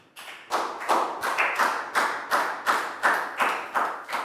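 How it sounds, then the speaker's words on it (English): Students clapping during a math lesson, sounding as a run of about nine sharp, evenly spaced claps in a regular rhythm, close and fairly loud, with no talk over them. "Big round of applause for Pak Bung."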